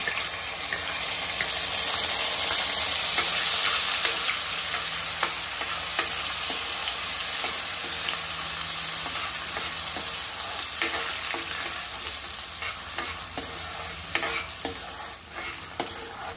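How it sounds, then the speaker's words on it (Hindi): Washed whole rice grains being stirred and roasted in ghee in a pan, a steady close sizzle with scraping and stirring clicks throughout, no talk. "ते आपण परतूया पहिले तुपावरती।"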